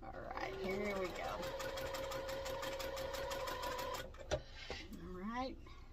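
Steady rapid stitching of a sewing machine running on a quilt block corner, a continuous mechanical whir with clicking needle rhythm for about four seconds before stopping, with a faint whistle-like tone under it.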